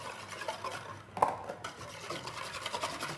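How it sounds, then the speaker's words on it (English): Eggs and caster sugar beaten together with a whisk in a bowl, a steady close scratchy swishing with one sharper clink partway through and no talking. "break the yolks, just beat them up a little bit"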